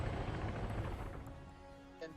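A helicopter in a military video game gives a brief, close, rhythmic rotor chop that fades slightly over about two seconds.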